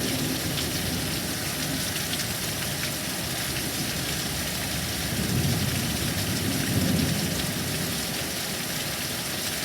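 A heavy thunderstorm with rain pours steadily and densely, while low rolling thunder swells twice in the middle; gusty wind adds to the constant roar, with no talk.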